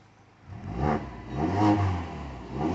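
A Mazda 6's engine revs through its exhaust in a few soft swells, rising and falling at a moderate distance, quiet and mellow.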